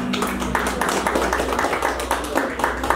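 An audience claps for a band at a 50th birthday celebration, a steady patter of many hands that continues for the whole stretch.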